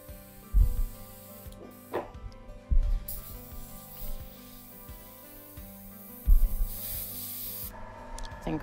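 An airbrush spraying food colouring onto a 3D chimpanzee cake, a thin steady hiss broken by a few brief thumps and handling knocks, close up over light background music.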